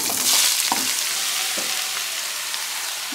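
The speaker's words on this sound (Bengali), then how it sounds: "এবার আমি এর মধ্যে ছাঁচি কুমড়োটা দিয়ে দেব" Ash gourd pieces hitting hot oil in a pan, setting off a loud, steady sizzle with a few soft clinks and scrapes, no voices.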